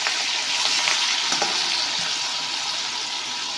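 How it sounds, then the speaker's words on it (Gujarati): Spice paste of chili and garlic sizzles steadily in hot oil with cumin while ragda pav is cooked: a dense, continuous crackle and hiss that stays close and loud throughout, with no talking. "આપણે તેની અંદર आलू मरचा અને લસણની પેસ્ટ વાટી છે આપણે તે એડ કરીશું અને તેને 1 થી 2 મિનિટ માટે સાંતળવાનું છે"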